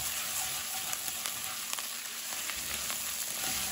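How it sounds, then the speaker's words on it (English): Tomato paste cooking down with onion and garlic in a pan, giving a continuous soft sizzle and crackle with faint spatters, steady and fairly quiet throughout. "we're gonna caramelize up the tomato paste a little bit, cook it down"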